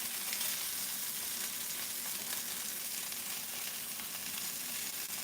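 Sausages fry in a pan with a soft, even sizzle that stays fairly faint and constant throughout, no voices over it.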